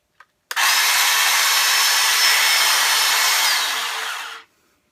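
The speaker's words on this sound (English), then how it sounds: "This is a portable battery operated bandsaw. So it's like a hacksaw" A portable battery-operated bandsaw starts with a click, then whines at a steady high pitch for about four seconds while cutting, close and loud, before spinning down to silence.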